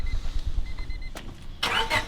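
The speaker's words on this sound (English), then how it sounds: "Let's see this exhaust start up." A Honda car with its muffler chopped off cranks and fires up, a brief rough starter churn and then a sudden loud burst of raw exhaust as it catches, close by.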